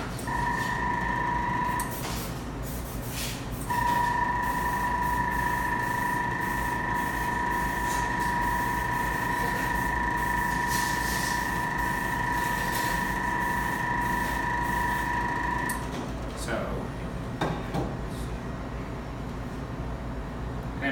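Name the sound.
spray gun spraying colored chocolate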